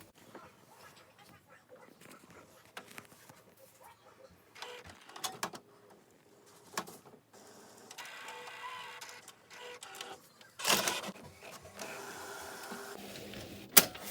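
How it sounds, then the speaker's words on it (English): An inkjet printer prints a page for a Cricut print-then-cut project, with soft intermittent mechanical whirring and feed clunks building to louder bursts near the end, fairly close and moderately quiet. "we're going to go ahead and send it to the printer"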